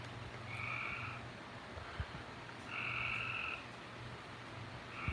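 Frogs croaking outdoors at night, a few spaced bursts of trilling calls over a steady low hum.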